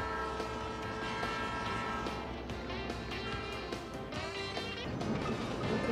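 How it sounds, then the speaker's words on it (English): A train rolls past a ball field, its horn sounding in a loud sustained chord over the rumbling wheels, with the roar swelling toward the end. "Train on the field."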